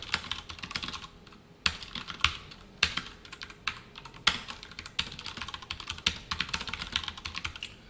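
Quick, uneven keystrokes on a computer keyboard while writing HTML and CSS code, with clustered bursts and brief pauses, close and clear with no voices.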